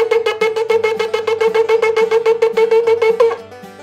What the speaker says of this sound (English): The third sound is terua, and it's many, many, many little sounds